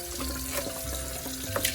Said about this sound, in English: So I'm just gonna turn on the cold water here.